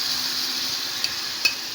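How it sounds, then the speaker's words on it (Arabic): Garlic and red pepper tempering for okra sizzles in hot fat, a steady bright hiss with two brief sharper crackles or stirring clinks near the end. "هنعمل بقى طشة الويكة"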